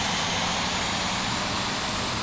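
A regional jet's engine runs in the Infinite Flight flight simulator game while the aircraft taxis to its gate at Miami, a loud, steady, even whine and roar with no pauses or talk.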